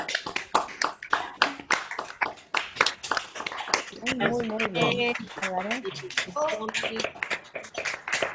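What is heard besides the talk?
online participants clapping for the panel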